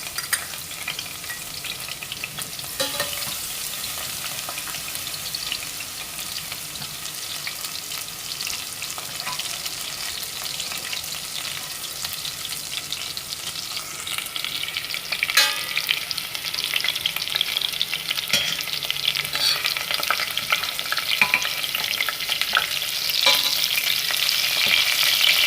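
Garlic and green chillies fry in hot oil in a cooking pan, a steady close sizzle with scraping stir strokes that grows louder and brighter partway through, with no talking.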